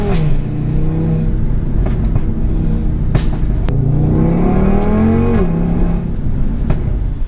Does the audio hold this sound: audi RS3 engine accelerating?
yes